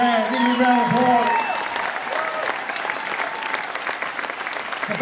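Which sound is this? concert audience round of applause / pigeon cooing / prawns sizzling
concert audience round of applause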